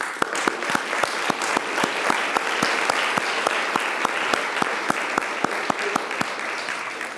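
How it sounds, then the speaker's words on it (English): Audience applause for Dr. Rarick at a talk on junk food versus junk sex, dense steady clapping from a crowd running the whole stretch with a few louder sharp claps standing out. "So let's give him a round of applause."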